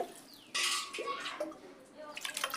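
Cups of water pour into a cooking pot for sweet pongal, a close splashing gush that starts abruptly and runs on with gurgles and small clinks, with faint room sound around it.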